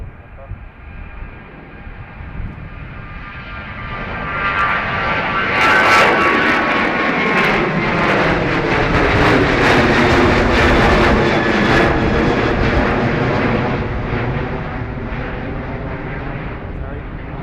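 Fixed-wing aircraft at Dublin Airport, a jet engine swelling from a low rumble to a loud roar and holding strong before easing off, broad and sustained across the whole stretch.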